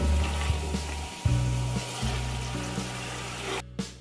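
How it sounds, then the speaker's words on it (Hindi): Chicken fries in a pan while being cooked for a vegetable pulao, a loud, close sizzle with a low, uneven rumble beneath it and occasional knocks of a utensil. "तो थोड़ा सा भून लेंगे"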